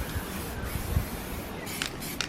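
A spray paint can hisses continuously, close and fairly soft, as black paint is sprayed onto small caps and a deck, with short sharper bursts toward the end.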